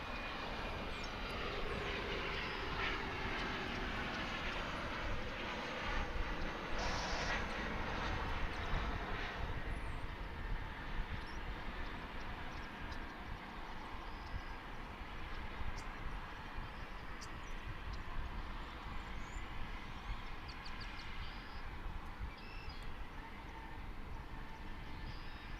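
A plane landing at DFW Airport gives a long, broad rumbling roar heard from a distance outdoors, swelling and then easing into a steady low wash of engine and rolling noise with no talk.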